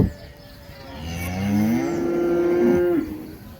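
Cattle at a morning livestock market low and bellow in a long, drawn-out moo with a rising, wavering pitch, fairly close and loud, with no talk over it.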